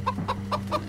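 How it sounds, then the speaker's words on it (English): A chicken in the Minecraft Story Mode game clucks in four or five short, evenly spaced, close bursts over a low steady hum. "Ah, jump scare chicken."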